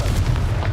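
A deep, rumbling boom from the Confringo fire spell in the video game Hogwarts Legacy, heard as a short, loud burst close up with no voices over it.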